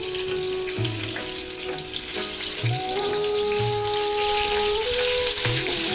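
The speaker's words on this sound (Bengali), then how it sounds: "মাছগুলো হালকা ভেজে তুলে রাখ।" Fish frying in oil for a Bengali fish head and moong dal curry, a steady dense crackle and sizzle close by, with occasional low clatters of utensils and no talk.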